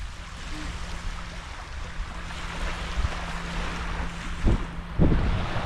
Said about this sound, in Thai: นี่คือทะเลนะฮะ ทะเลชิว ๆ